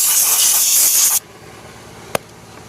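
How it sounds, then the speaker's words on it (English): Adams Surface Prep Spray hisses steadily and loudly from a spray can onto a car wheel for about a second, then cuts off abruptly, leaving quiet with one sharp click shortly after. "We're going to take the old scuff pad with some of the Adams Surface Prep Spray to clean these brake lines between the new and old finish."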